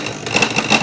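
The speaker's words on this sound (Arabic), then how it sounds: "نخدموا غير الموتور، نسمعوا الصوت ديالو كي داير" A Clatronic KM2718 mixer motor runs with a fault, giving a brief, steady, fairly loud whirring hum with a thin high whine.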